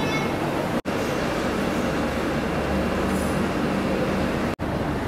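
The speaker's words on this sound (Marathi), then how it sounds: "आपली ट्रेन निघाली आहे प्लॅटफॉर्म नंबर 4 वरून" A Mumbai–Surat double-decker express pulls out of a station platform with a close, steady rumbling roll of carriages, a brief faint squeal midway and two momentary dropouts in the sound.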